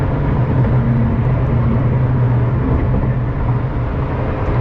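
A Ferrari LaFerrari hybrid engine fires back up under throttle after shutting off, giving a steady, loud low rumble and drone that holds throughout with no talk over it.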